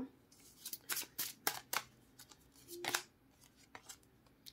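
Tarot cards are handled and shuffled, producing faint, quick papery riffles and flicks in short clustered bursts, with no voice over them.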